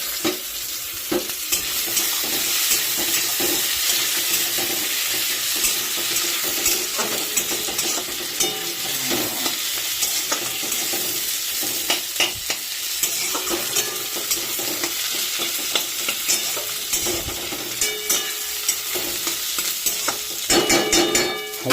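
Chopped tomatoes hit fried onions in a hot pan on a home stove while cooking chicken, a steady loud sizzle running throughout with repeated scraping stirs of a utensil against the pan.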